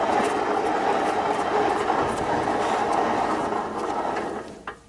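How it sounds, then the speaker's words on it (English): A worn differential bearing in a GM 10-bolt rear end from a Chevy Tahoe, Silverado or GMC Sierra turns with a continuous coarse grinding rumble, loud and close, holding steady for several seconds before trailing off. "Your differential bearing shouldn't sound like that."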